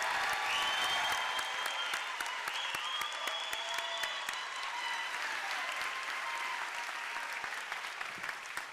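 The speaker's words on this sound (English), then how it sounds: "Please give them all a big round of applause." Sustained applause from a large graduation commencement audience at a medical school, steady dense clapping that fills the hall with no voices over it.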